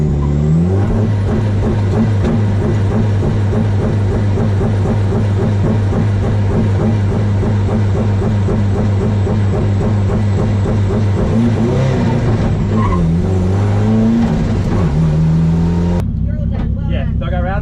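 A Nissan S13 Silvia drift car engine revving hard and steadily on track, a loud sustained roar with rising and falling pitch that cuts off abruptly near the end.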